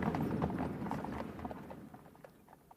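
Hooves clip-clop across a paved stable yard as a radio drama effect, a busy run of overlapping hoof strikes that starts loud and close and gradually fades.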